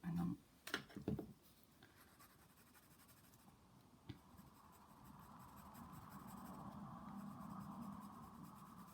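Pencil drawing on paper propped against a stand, faint scratchy strokes with a few brisk bursts at first, then quieter, steadier sketching over a low background hum.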